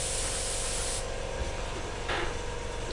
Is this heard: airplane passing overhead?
no